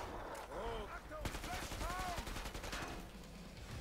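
Automatic gunfire in the video game Killing Floor 2, rapid repeated shots rattling across several seconds among other game sounds, with a player talking under the shooting.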